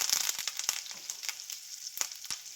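Cumin seeds, asafoetida and curry leaves crackle in hot oil for a Gujarati tempering, a close, quiet sizzle broken by sharp pops and spits at irregular moments.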